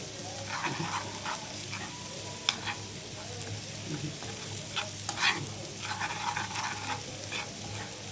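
Frying food for molokhia stirred in a pan, a soft continuous sizzle broken by repeated close scraping and tapping of the spoon, no talking.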